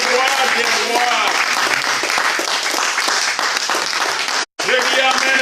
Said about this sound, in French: On peut acclamer pour le roi des rois.